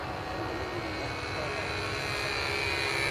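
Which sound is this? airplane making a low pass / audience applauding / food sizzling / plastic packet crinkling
airplane making a low pass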